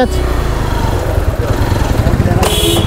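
A motorcycle engine strains as it pulls uphill on the mountain road to Kedarnath, a steady loud mid-pitched drone heard up close, with voices talking over it.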